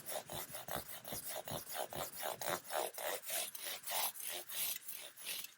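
A Dremel rotary tool sanding and polishing the finish of an SP P90 pistol, giving a steady run of rhythmic rasping, rubbing strokes, close and fairly loud, with no talking.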